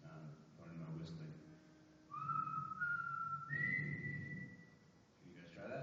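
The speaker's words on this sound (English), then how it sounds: "pardon my whistling" A man whistles a short, simple melody at a celebration of life, rising sustained notes over a soft background murmur, fairly faint.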